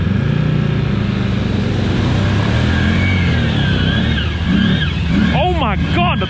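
A Can-Am off-road vehicle accelerates hard under throttle with a loud, continuous engine roar. Rising whining tones climb near the end, and an excited voice shouts over the noise.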